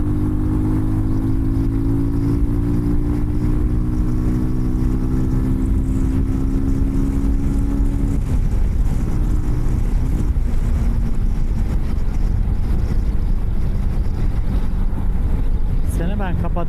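Strong wind buffets the microphone over a droning Benelli TRK 251 motorcycle engine whose pitch shifts, a constant loud roar with a voice faintly underneath.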